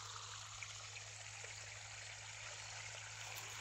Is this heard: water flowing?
yes